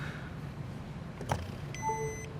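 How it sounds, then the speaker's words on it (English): An iPhone wireless charger gives a short, quiet electronic beep sequence near the end, a couple of brief tones over soft room noise with no talk. "It made a weird beeping sound."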